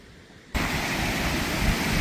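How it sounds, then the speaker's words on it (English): Water rushes beneath a footbridge at historic Batsto Village in the New Jersey Pine Barrens. After a quiet half-second, a loud, steady, broadband roar starts suddenly and continues unbroken. "You can hear the water rushing below my feet."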